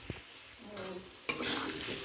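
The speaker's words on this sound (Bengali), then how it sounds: "এই দেখো মোচার আলু ভাজি, ফোড়ন দিয়েছি কি বলতো, সাদা জিরে তেজপাতা" Potatoes with banana flower frying in oil tempered with white cumin and bay leaf, a quiet hiss that jumps to a louder, steady sizzle partway through, with faint stirring.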